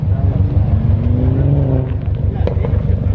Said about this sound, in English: that boxer engine just sounds so good